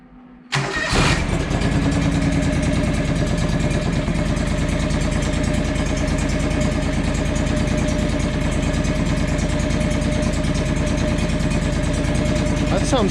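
A John Deere 445 lawn tractor's small engine sputters to life after a brief pull, then settles into a steady, loud, chugging idle that runs unbroken.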